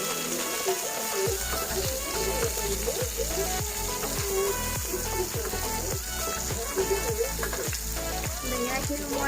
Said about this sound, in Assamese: বেঙেনাখিনি মই মাছৰ নিচিনাকৈ ফ্ৰাই কৰি ল'ম।